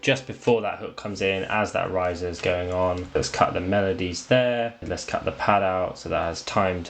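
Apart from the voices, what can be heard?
No everyday noise stands out behind the speech.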